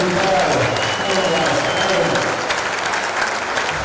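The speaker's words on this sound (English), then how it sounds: "Now let's all give a big applause for every sportswoman that is here in Sarajevo 2025." Audience at the Sarajevo 2025 women's European Championship final applauding the sportswomen, broad crowd clapping that fills the hall evenly throughout, with a faint voice underneath.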